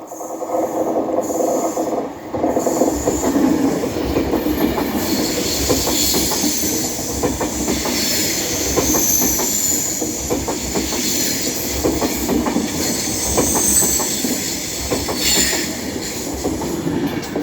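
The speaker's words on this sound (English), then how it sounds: "And now coming through is another Avanti West Coast Class 390 running from London Euston to Manchester" Avanti West Coast Class 390 passing through Cheadle Hulme station on the West Coast Main Line, a loud steady roar of wheels on rail with rhythmic clickety-clack and faint squeal, sustained for the whole span.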